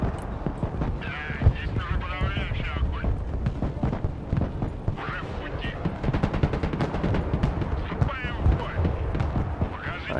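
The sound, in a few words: gunfire in video game Broken Arrow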